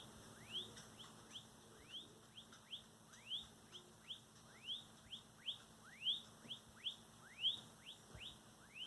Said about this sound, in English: it's starting to make a little sort of bird tweety noise.